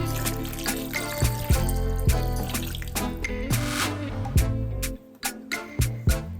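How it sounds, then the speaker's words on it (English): Lukewarm water pours steadily into a bowl of beaten butter, sugar and egg for rusk dough, a continuous close trickle broken by a few clunks and knocks near the end. "you want to add 2 cups of lukewarm water"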